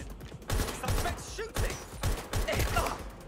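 Gunfire in the video game Watch Dogs Legion: a string of sharp, loud bursts in uneven rhythm, mixed with mechanical clatter and background game noise.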